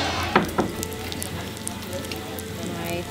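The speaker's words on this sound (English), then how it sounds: "Sizzling away." Sisig sizzles on a hot plate at a dinner in the Philippines, giving a steady crackling hiss with a couple of sharper pops near the start.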